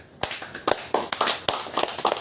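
An audience at an informal religious study gathering in Manokwari claps hands in a handful of sharp, close, irregular bursts, several loud distinct claps spaced across a couple of seconds with no talking.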